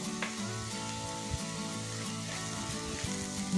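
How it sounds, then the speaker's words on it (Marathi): Coriander powder, fennel seed and turmeric sautéed and stirred in a pan for spicy batata vada filling, a soft steady sizzle with faint scraping stirring sounds, no talk. "छान परतून घ्यायचं, मिक्स करून घ्यायचं।"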